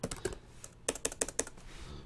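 Typing on a computer keyboard, a few quick clustered key clicks with a short pause between bursts, close and fairly quiet, no voices.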